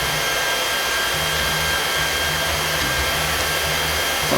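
Heat gun blowing steadily at close range, a loud continuous rushing whir with a faint low pulsing hum underneath, alone without talk.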